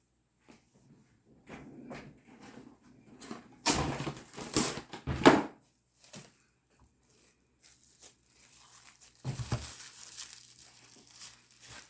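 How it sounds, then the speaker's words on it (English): Crinkling and rustling of wrap around leftover food for storage in a kitchen, with soft handling noises, two loud bursts of crumpling in the middle and another toward the end, close by. "I can just wrap this bit up and put it away for another day"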